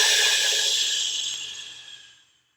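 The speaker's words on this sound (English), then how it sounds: "We're going to exhale through the teeth." Slow exhale pushed through the teeth in a breathing exercise, a steady airy hiss that gradually fades out over a couple of seconds, close and alone.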